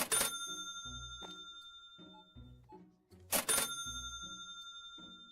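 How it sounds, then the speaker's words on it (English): Cash register in the supermarket video game SuperMarket Together sounds in two bright rings, one at the start and one past the midpoint, each with a short electronic tone and low soft beeps and thumps between them, fairly quiet. "I probably wouldn't see it while I'm working on the cash register"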